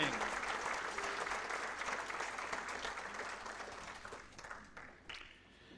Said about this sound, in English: can we have a round of applause for all our previous inductees that are with us here this evening?